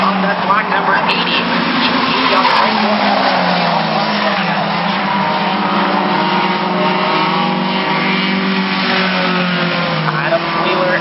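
A Comp 4 class race car rumbles off turn four at Brighton Speedway, its engine drone steady and loud for the whole stretch, with other cars' engines layered in and an announcer talking over the noise throughout.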